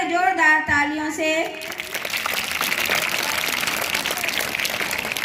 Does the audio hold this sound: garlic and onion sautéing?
no